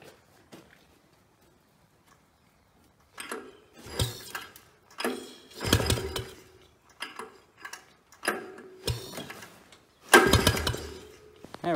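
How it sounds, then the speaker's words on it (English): A barn-find Polaris Trail Boss engine cranked over by pull-start during a compression test with the throttle held wide open, giving several separate bursts of chugging, whirring turnover after a quiet start, close and fairly loud, with no talk. "let's do a quick compression test here. I'll hold the throttle wide open there and pull it over."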